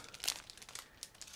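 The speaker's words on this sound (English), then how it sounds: "Here we go on with the first plastic bag. I'm going to remove this resealable flap." A resealable flap on a plastic bag from an ICM 1/48 Forward Base model kit is peeled open in a few quiet, close crinkling rustles.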